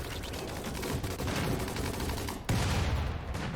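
Automated turrets firing at raiders in Rimworld, a continuous rattling stream of close, loud shots with a sharper burst near the end.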